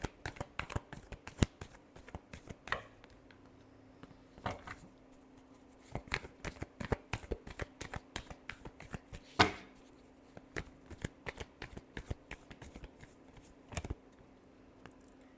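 Tarot cards being shuffled during a reading, a long run of quick, crisp riffling and tapping bursts, close and fairly quiet, with no talking over it.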